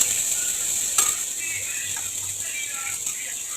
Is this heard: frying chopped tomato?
yes